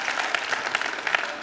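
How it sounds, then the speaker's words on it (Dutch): An audience breaks into brief applause, a quick burst of scattered claps from a modest crowd, moderately quiet and heard mostly on its own. "Geef me een applaus."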